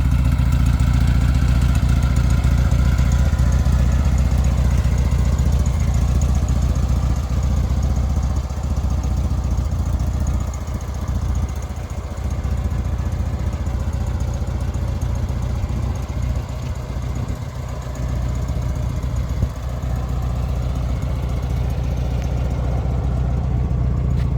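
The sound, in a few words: car engine idling with Monza exhaust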